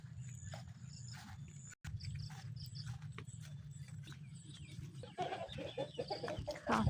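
Chickens cluck softly in a rural yard near a vegetable plot, with scattered faint calls against a low background rumble and a slightly busier, closer flurry of clucks toward the end.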